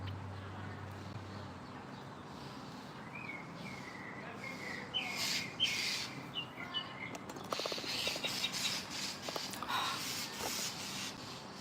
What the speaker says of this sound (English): We had two birds in the tree.